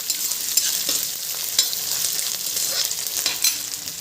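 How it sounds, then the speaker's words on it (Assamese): Onions and a little garlic fry and sizzle in a pan with bay leaves as they are stirred, giving a steady close crackle with faint scraping accents. "তাৰপিছতে পিঁয়াজ দিলোঁ আৰু কেইটামান নহৰু। আৰু এতিয়া ভালদৰে লৰাই"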